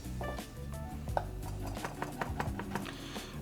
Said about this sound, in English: Just gonna chop it up into tiny little pieces.